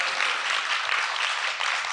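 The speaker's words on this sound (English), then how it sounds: "You can clap for that." Crowd applause at a university-wide MLK Week event, a continuous even wash of many people clapping for a couple of seconds.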